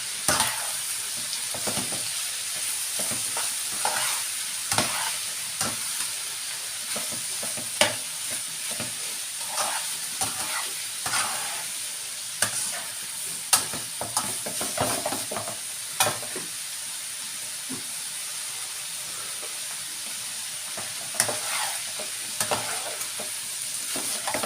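Pork cubes for dinuguan frying in a pan and being stirred, with a steady crackling sizzle and repeated scraping strokes of a spoon against the pan throughout, close and fairly loud, with no talking.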